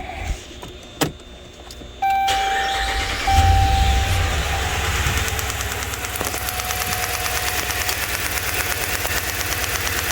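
A 2011 RAM 1500 with a 5.7L HEMI V8 and a shorting cylinder 1 ignition coil cranks and fires up, then settles into a steady, fairly loud idle that runs on alone.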